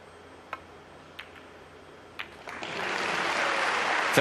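A snooker crowd at the World Grand Prix final applauds a pot. A few sharp clicks sound first, then clapping swells and carries on steadily.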